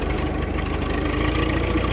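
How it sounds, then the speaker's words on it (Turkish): A tractor engine idles on a village outing, a steady low, throbbing rumble with an even mechanical pulse, close and continuous, with no talk over it. "traktörle tekrardan bu çalıları bir köy evine götüreceğiz"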